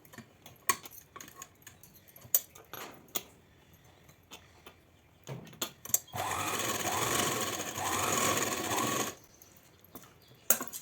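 A sewing machine stitches a chudithar neck design on single-layer fabric backed with canvas; a three-second burst of rapid, steady mechanical whirring follows scattered light clicks and taps, close and fairly quiet, with no talking.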